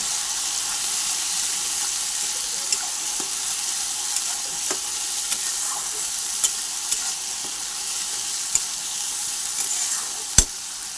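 Onions and spices for mutton curry sizzle steadily in hot oil, a constant crackling hiss with a few small pops and clinks scattered throughout.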